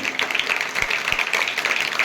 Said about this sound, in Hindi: उन सब के लिए एक जोरदार तालियां हो जाए।